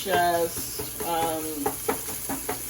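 Meat drippings and fat are broken up in a hot pan, a close sizzle with repeated scraping stir strokes roughly every half second.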